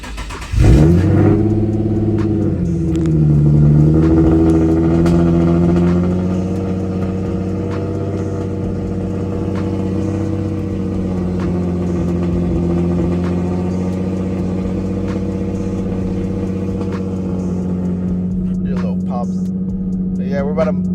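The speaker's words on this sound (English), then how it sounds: "We're gonna get a little cold start." A 2019 Mustang GT cold-starts with a loud, close burst, revs up briefly a few seconds later, then settles into a steady, throaty idle.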